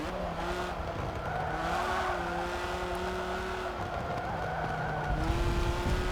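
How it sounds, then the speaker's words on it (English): A car on a race lap brakes hard and skids, with steady engine drone and broad tyre noise running through, rising slightly louder near the end; no talking. "stamp on the brakes, skid it, and ruin what was actually shaping up to be quite a good lap time"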